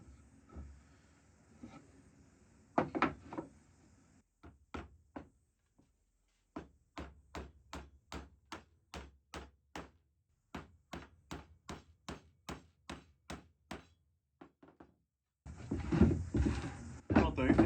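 Reclaimed nails are hammered into pallet wood slats for a firewood shed, a long run of sharp, evenly spaced blows ringing out close by, with speech and rustling at the start and end.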